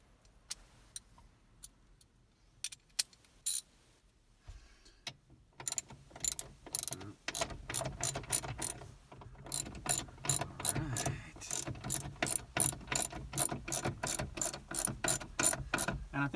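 Grab handle bolts on a Jeep JK are tightened with a ratchet: a few sparse clicks at first, then long runs of quick, crisp ratcheting close up, with short pauses between strokes.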